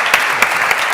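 An audience claps together in a steady, loud burst of applause, with a few sharper individual claps standing out.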